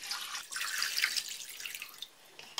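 Warm water pours from a container into a pot holding pork shoulder, bay leaves and allspice, a close, hissing splash that runs steadily for about two seconds, then thins to a few trickles.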